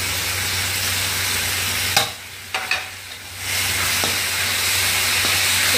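A steady sizzle of ginger-garlic paste frying in a pan, briefly quieted by a few clinks and stirring scrapes, then hissing loudly again.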